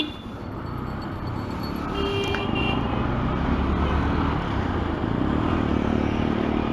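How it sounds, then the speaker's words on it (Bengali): Motorcycle coasting down under engine braking with the throttle shut on a rainy road, a steady low engine and road rumble that holds near and fairly loud throughout. "এই যে আমি গাড়ি রান করছি, এই যে থ্রোটল ছেড়ে দিয়েছি"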